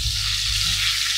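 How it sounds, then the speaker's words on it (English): Steady, close sizzling and crackling of duck breast frying skin-side down in its rendered fat in a hot pan, with no voices. "the duck's been frying away for 8 minutes and you can see in the pan loads of fat has come out"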